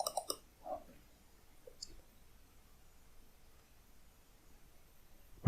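A computer mouse gives a few quick, crisp clicks near the start, with one more soft click a bit later, followed by near silence in a quiet room.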